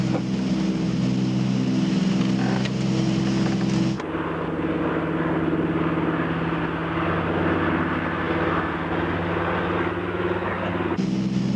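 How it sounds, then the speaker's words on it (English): Aircraft engines with superchargers switched on run as a steady, loud, continuous drone of layered low hum, with the tone dropping and shifting abruptly partway through before rising again near the end. "Switch on the superchargers. Let's see how they're working."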